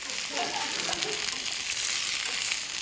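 Vegetables with broccoli stirred in a hot frying pan, a steady close sizzle with soft scraping movements throughout, a voice faintly present beneath.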